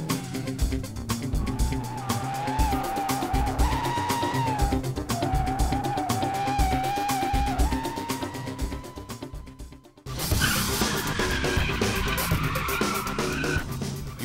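Drift cars at an organized drift event on a track in Tampa, with tires screeching in long sustained squeals over roaring engines, loud and close, briefly cut off then resuming.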